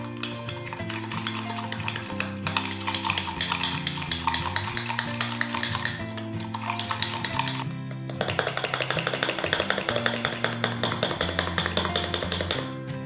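A spoon briskly whisks instant coffee with cold water into a thick golden batter, giving fast continuous scraping and clinking against the cup with a short pause partway through, close and prominent over a background of music.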